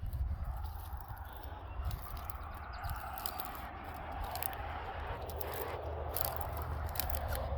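Garden shears cutting back spring perennials outdoors, a series of faint crisp snips over steady wind and ambient noise.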